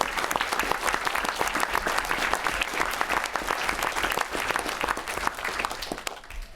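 Steady, dense applause from an audience of students and attendees at a public hearing in Minnesota, holding at an even level for the full stretch before thinning slightly at the end.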